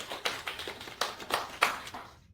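A small burst of handclaps for Mr. and Mrs. Wiryawan, a handful of sharp, uneven claps close by over about two seconds, trailing off into silence.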